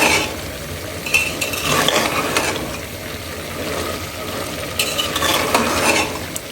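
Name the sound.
chickpea curry being stirred and fried in a pan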